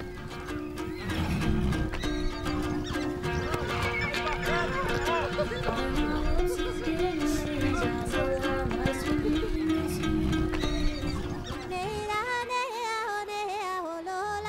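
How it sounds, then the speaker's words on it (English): Several horses whinny and neigh repeatedly over a continuous patter of hooves, with a voice talking faintly underneath. "these horses were key in enabling Genghis Khan to create such a powerful army"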